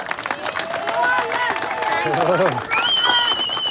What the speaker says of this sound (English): applause for our Patrick Rocket Millimeter